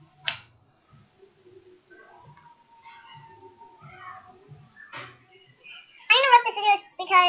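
Fingers snap sharply in a quiet room, one crisp crack near the start and another midway. Soft, high childlike voices and a cat's meowing follow, growing louder toward the end.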